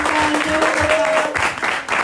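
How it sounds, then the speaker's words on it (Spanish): Applause from a small audience at a Medellín vasectomy awareness event, a steady patter of clapping lasting about two seconds, with a faint whistle-like tone running through it. "que se escuche el aplauso"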